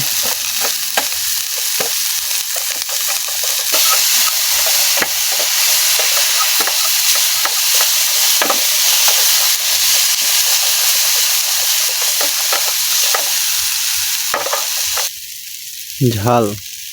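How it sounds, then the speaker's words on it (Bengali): Chopped onions frying loudly in a pan over a camp stove outdoors in cold, rainy weather, a steady close sizzle with stirring scrapes, then a brief burst of something different near the end. "রান্নার প্রসেসিং শুরু হয়ে গেছে, পেঁয়াজ ভাজি করতেছে"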